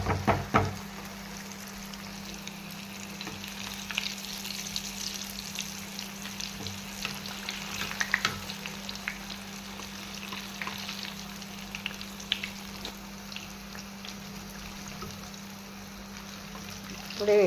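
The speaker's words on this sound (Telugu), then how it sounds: "ఒక్కొక్కటిగా నూనెలో వేసుకుంటున్నాను నేను" Poornalu, sweet stuffed dumplings, frying in hot oil, a soft continuous sizzle with scattered faint crackles and bubbling, close but fairly quiet, with a low steady hum underneath.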